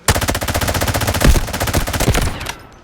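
Rapid automatic fire from an SG552 rifle in the Delta Force Mobile shooter game, a loud, close stream of dozens of shots in quick rhythm with a few slight breaks, ending in a fading tail.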